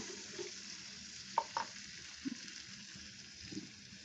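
Kangla fish is stirred in mustard masala in a pan, a faint steady sizzle with a few soft scrapes and taps of the utensil, quiet and close.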